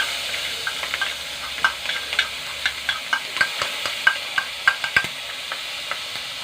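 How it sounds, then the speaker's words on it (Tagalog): Ginger, garlic and green chili sauté in a pan, a soft sizzle broken by rhythmic scraping taps of a spatula stirring the aromatics, close and steady. "Gisahin na natin mga idol. Luya pati bawang ni mga idol, pati siling green."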